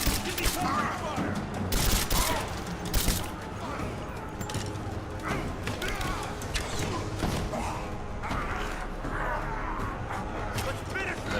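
Sustained gunfire and explosions in a firefight in the video game Rise of the Tomb Raider, with dense bursts and booms throughout and voices shouting over the battle.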